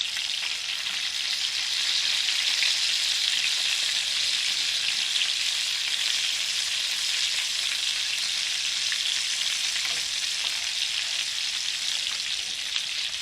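A flour gravy paste sizzles in a frying pan for mushrooms and meatballs while it is stirred and scraped, giving a loud, constant hiss with no pauses and no voices.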